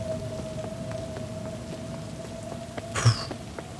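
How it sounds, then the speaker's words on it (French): Rain falls in Cyberpunk 2077, a constant moderate hiss with a steady hum beneath it, occasional soft ticks, and a brief louder swell near the end. "Et puis, il pleut sa mère."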